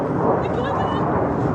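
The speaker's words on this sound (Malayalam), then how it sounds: "ആ പോണു ഫ്ലൈറ്റ്." A plane passing overhead near a corniche in Saudi Arabia, a dense continuous roar that stays loud and steady throughout, with a bit of background chatter.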